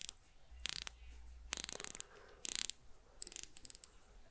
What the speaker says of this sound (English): On both watches we have a unidirectional dive bezel with 120 clicks, and let's hear these clicks.